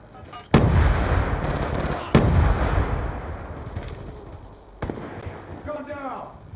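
A video game firefight: two heavy grenade blasts and a later third explosion boom close by, with scattered gunfire and soldier callouts in between.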